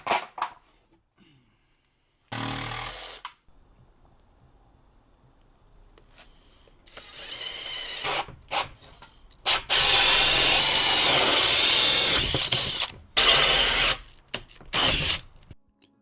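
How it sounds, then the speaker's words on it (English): Power jigsaw cutting a plywood floor panel for a Caddy van conversion, heard in several loud bursts of buzzing, rasping cutting separated by pauses and handling noise, close by with no talk. "Now I'm going to go get my jigsaw and start cutting."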